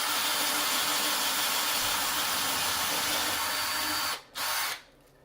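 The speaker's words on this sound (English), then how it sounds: "So the hole's been drilled." A power drill bores a dowel-insert hole into a wooden handrail piece, a loud continuous whirring grind that holds steady for about four seconds, dips briefly, surges once more and then stops.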